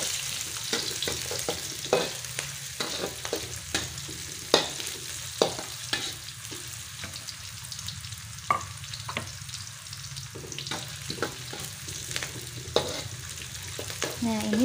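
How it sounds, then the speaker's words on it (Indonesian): Onions sautéing in a pan for a stir-fried bean sprout and scrambled egg dish, a soft continuous sizzle punctuated by frequent spatula scrapes and taps, with no one speaking. "Untuk bawangnya tumis hingga harum ya."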